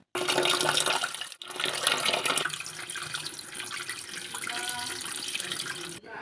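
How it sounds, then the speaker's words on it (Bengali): Tap water runs steadily into a sink as potatoes are rinsed for aloo dum, a loud continuous splash with a brief break partway through and no talking. "তো চলো এবার আলুগুলো ধুয়ে নিই।"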